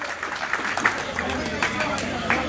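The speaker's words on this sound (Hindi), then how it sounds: "एक बार जोरदार तालियों से स्वागत करें" Audience applause welcoming a poet at a Labour Day kavi sammelan in Harda, a steady wash of clapping with a few sharper claps, fairly close, with some crowd murmur beneath.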